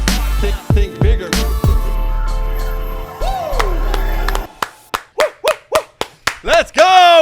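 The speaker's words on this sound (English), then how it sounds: "We clap in our intros." Podcast hosts clapping in a studio intro, a run of about eight sharp, separate claps near the mic that follows a loud stretch of music and voices.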